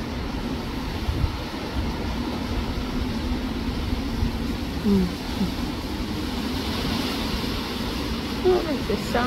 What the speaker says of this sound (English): it's the sound of the wind.